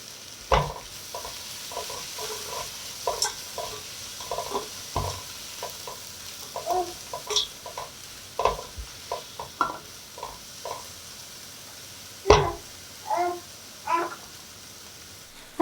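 Small pan of frying garlic and diced tomato being stirred, soft sizzle under a steady run of short scraping stirs, close and fairly quiet, with a few louder clacks of the utensil against the pan.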